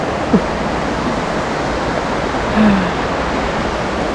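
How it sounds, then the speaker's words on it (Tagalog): Continuous rushing water of a flowing stream near Ålgård and Sandnes, Norway, a steady broadband wash with a couple of faint brief chirps over it. "tinig ng batis"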